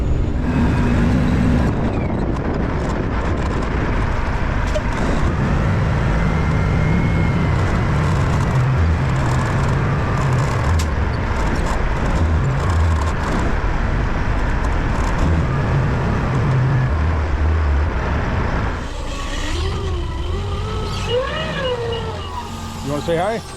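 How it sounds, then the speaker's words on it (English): Steady road traffic streams past outdoors, a continuous loud rumble of cars and trucks that stays level and then eases slightly near the end, with voices talking over it. "It's amazing how much traffic there is out here."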